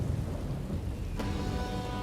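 Steady heavy rain from a Rome: Total War battle, with a rumble of thunder rolling underneath and a sharp crack partway through.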